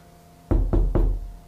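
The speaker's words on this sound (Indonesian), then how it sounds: "siapa ketuk pintu tu?" Three loud, close knocks on a door come in an even, quick rhythm, with silence before them, as a sound effect in a ghost story.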